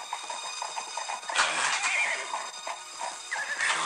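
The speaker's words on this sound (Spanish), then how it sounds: "oyó el galope de un caballo que se acercaba" Horse sounds inside a spoken legend, with whinnying and faint hoof clip-clop set against a dense, steady background, moderately loud throughout.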